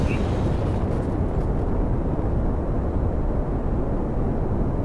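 Rocket launch in the Kerbal Space Program video game: a steady, loud roaring rumble of engine thrust fills the whole stretch without letting up, with a brief bright pop near the start.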